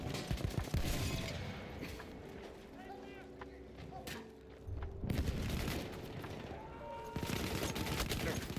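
Machine gun fire in Battlefield 1, a multiplayer shooter, with rapid bursts of shots and booms coming and going between calmer stretches, under speech.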